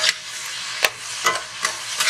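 Ground meat browning in a pan for homemade spaghetti sauce hisses with a steady broadband sizzle, broken by a few brief scrapes and clicks as it is stirred, close and fairly loud with no talk.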